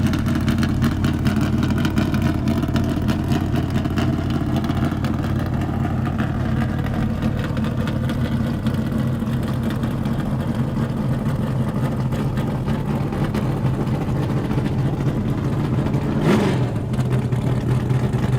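A roadster powered by a 1970s Chevrolet 256 cubic inch small block engine, running on fuel at a land speed racing event, with a steady engine drone throughout and a brief sharp burst near the end.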